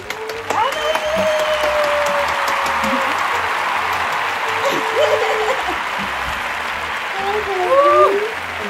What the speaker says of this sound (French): on peut applaudissements pour Amanda, s'il vous plaît.